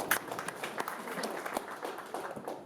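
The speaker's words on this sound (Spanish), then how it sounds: "Have applause." A Spanish- and English-speaking church congregation gives a round of applause at a Sunday service, with continuous crowd clapping and scattered sharper claps under light voices in the room.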